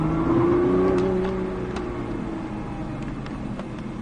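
A car engine revs up in a loud, whining climb, then eases into a steady, slightly lower drone that holds for several seconds close by.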